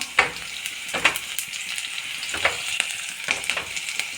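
Ginger and green chillies fry in a pan for Gujarati dhokla, giving a steady close hiss with sharp crackling pops that burst every second or so.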